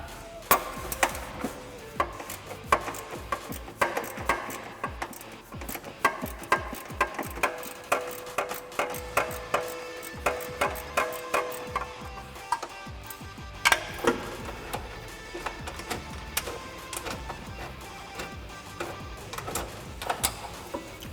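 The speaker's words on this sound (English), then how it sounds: "I'm going to take my 13 millimeter on my ratchet" Ratchet with a 13 mm socket loosening an exhaust bracket bolt under a 2005-2009 Mustang GT: rapid, steady clicking of the pawl in repeated runs, close and fairly quiet, no talk.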